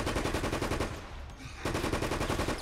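Rapid automatic gunfire from a special-forces squad in the co-op shooter Resident Evil: Operation Raccoon City, loud and continuous bursts that drop out briefly in the middle before resuming at full intensity.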